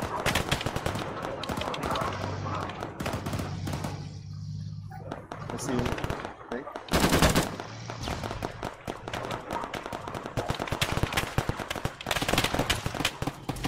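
Gunfire in the military shooter ARMA 3 crackles through a busy firefight: scattered shots and bursts, some near and some distant, over an engine-like drone, with players talking throughout.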